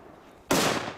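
A single sharp, loud blast from a firecracker grenade bursts out of quiet background, followed by a crackling, hissing tail.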